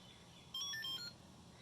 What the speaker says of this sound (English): it makes an R2D2 noise